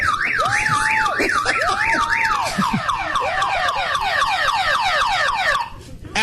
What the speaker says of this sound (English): It almost sounds like a car alarm rodeo.